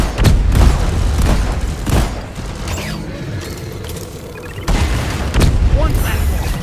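Sticky grenade blast in the Deep Rock Galactic video game, a loud booming burst among repeated thuds and mechanical clatter of combat, with in-game voices calling out over the action.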